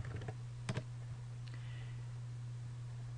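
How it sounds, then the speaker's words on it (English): Quiet keys clatter in a short burst of typing on a computer keyboard, followed by a couple of separate taps, over a steady low hum. "you simply type in a few words"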